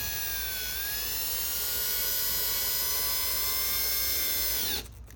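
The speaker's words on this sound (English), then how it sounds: "Stick it in and drill it." A power drill whines steadily at high speed for several seconds, the pitch shifting slightly as it drives a self-tapping screw into a Dodge Challenger widebody kit, then abruptly stops.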